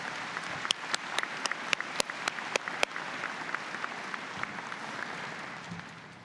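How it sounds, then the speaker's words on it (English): A convocation audience claps for introduced board members, a moderate patter with sharp individual claps standing out in the first half, then thinning and fading over the last seconds. "Can we give them a round of applause"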